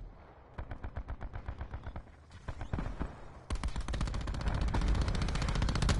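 Rapid enemy gunfire in a shooter video game, with quick bursts of sharp repeated shots that build into sustained, loud automatic fire, close and dominant with no talking.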